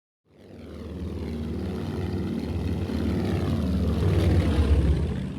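The engines of a Junkers Ju 52 in the Aerofly FS 4 flight simulator, departing Page, Arizona, rise from silence into a loud, steady propeller drone heard from behind the cockpit, swelling slightly and holding with a low rumbling throb.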